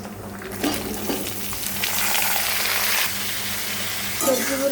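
Chopped vegetables for dalia hit hot oil in a pan with a steady, close sizzle that swells and holds for several seconds, with brief clatter at the start and end.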